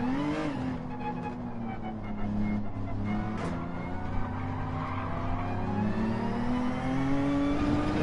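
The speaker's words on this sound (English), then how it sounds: "I think there's a car coming by me. I have to give way to it." A Group 3 race car at Interlagos in Gran Turismo 7 drones with a steady engine, its pitch gradually climbing as a rival car draws alongside and passes, loud and continuous with no talking.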